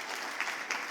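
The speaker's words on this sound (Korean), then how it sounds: "한번 격려의 박수로 한번 축복해 주시면 감사하겠습니다." A church congregation at a Korean Sunday service claps in encouragement, a short, soft burst of scattered applause heard from across the sanctuary.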